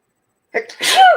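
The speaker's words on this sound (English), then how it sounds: "I'm going to sneeze." One sharp human sneeze, close and loud, with a short sharp intake of breath before the burst.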